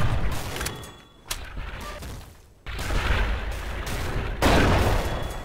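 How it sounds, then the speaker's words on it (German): Gunfire and heavy impacts strike a tank in a Carpathian Cross battle of the Red Orchestra war game, a dense roll of booming shots and thuds with a sharp burst near the start and a louder barrage toward the end. "Der macht natürlich einen Volltreffer in mein Panzer"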